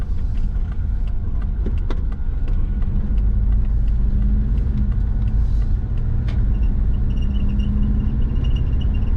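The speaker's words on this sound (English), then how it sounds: "I'm gonna go for a drive." A twin-turbo Subaru Forester with a fueling issue drives along, producing a loud, steady low engine and road rumble heard from inside the car, with no talk.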